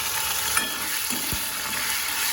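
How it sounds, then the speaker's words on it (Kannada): Crushed garlic frying in hot oil with urad dal, dried red chillies and popped mustard seeds, a steady close sizzle with a few soft stirring scrapes. "ಈಗ ಬೆಳ್ಳುಳ್ಳಿ ಜಜ್ಕೊಂಡಿರತ್ತಲ್ಲ ಅದನ್ನು ಅದಕ್ಕೆ ಹಾಕಿ ಫ್ರೈ ಮಾಡಬೇಕು"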